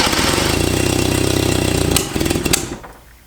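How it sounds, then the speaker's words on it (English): Abandoned Fiat engine, unstarted for 30 years, cranking over on the starter in a fast, rhythmic chug for about two seconds, then stopping with a few clunks and fading out, loud and close. "Go ahead and crank it."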